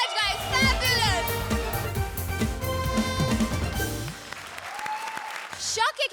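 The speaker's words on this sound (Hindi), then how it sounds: "कृष्णा और सुदेश के लिए जोरदार तालियां" A studio audience at a televised Hindi comedy show claps and cheers loudly for several seconds, with music and voices mixed in before the applause fades near the end.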